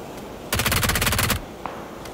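Automatic gunfire in the video game PUBG, a single rapid burst of close shots lasting under a second, followed by a faint click and quiet background.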